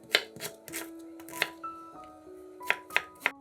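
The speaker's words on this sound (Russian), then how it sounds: "Лук нарезаем кубиками." Knife chopping onion into cubes on a board, a series of sharp, close taps in irregular bursts with short pauses, with faint background tones between strokes.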